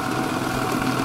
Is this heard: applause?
no